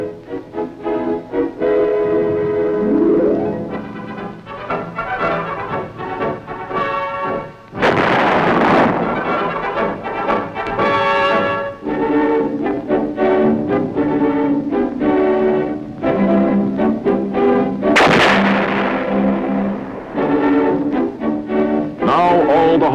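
175mm self-propelled guns firing at Aberdeen Proving Ground: two huge booming blasts rolling out over a loud bed of music, with heavy rumbling between the shots.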